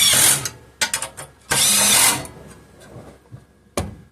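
A hand ratchet spins bolts down on a 3 hp Briggs and Stratton small engine, giving close, loud bursts of rapid clicking in a few separate runs with short pauses between.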